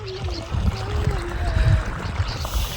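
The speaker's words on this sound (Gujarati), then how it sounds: "જો પાણી ચાલુ છે, બાસાલી પણ ચાલુ છે, અને હવે પાણી પહોંચી ગયું છે ઠેઠ આપણા હરિયામાં" Irrigation water from a well flows and trickles into a cotton field, a close soft gurgling pour with low rumbling underneath and faint whining tones.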